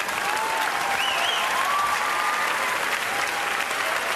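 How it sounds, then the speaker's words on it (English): Audience at a stand-up comedy show breaks into sustained, dense applause that holds steady and loud for the full stretch, with a few faint whistles riding over it. "Applause break number 2."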